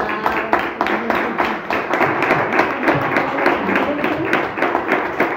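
Audience at a literary gathering for Book Month in Torrejón breaking into sustained applause, dense rhythmic clapping filling the room, loud and close, with a few voices mixed underneath.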